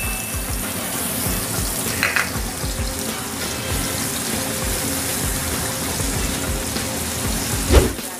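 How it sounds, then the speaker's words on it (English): Garlic sautéing in a hot pan, with a steady close sizzle and frying crackle under occasional stirring scrapes and a clink of the utensil near the end. "Igisa naman natin ang ating garlic"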